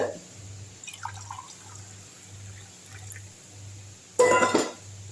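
A glassful of water is poured into a pot of mutton biryani, making a short, close splash near the end after several seconds of quiet low hum and faint dripping.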